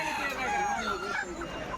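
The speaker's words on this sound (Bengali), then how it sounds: "এই দেখেন খাঁচায় করে অনেক মুরগি নিয়ে আসছে" A dense chorus of many chickens clucking and squawking at once, busy and continuous, with a faint murmur of voices behind.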